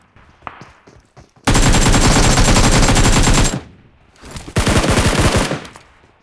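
Automatic gunfire from a gun in the BGMI video game rattles out in two loud, rapid bursts, a long sustained one and then a shorter one, with brief quiet between and no talk.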